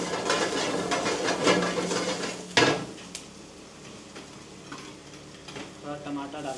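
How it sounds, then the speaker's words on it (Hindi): Green chilies and curry leaves sizzling in a pan while cooking chicken sukha, a steady frying hiss with utensil scrapes and stirring clatter, including one sharp clank, while people talk. "इसमें डालेंगे ग्रीन चिली, ग्रीन चिली आ रही है, कड़ी पत्ता डालेंगे।"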